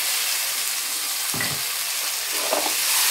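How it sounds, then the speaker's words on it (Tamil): Pureed tomato frying with onion and garlic in oil in a pan for a curry, a steady loud sizzle with brief thicker bubbling and stirring bursts, no voices. "நல்லா கலந்து விட்டு எண்ணெய் பிரிகிற அளவுக்கு வதங்கட்டும்."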